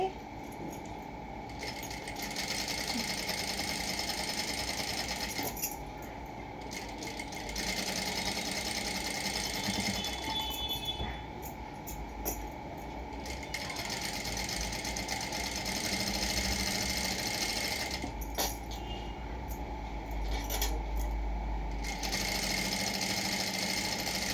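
Sewing machine top-stitching and hemming a plain cotton blouse, running in steady close whirring bursts separated by short pauses as the fabric is repositioned.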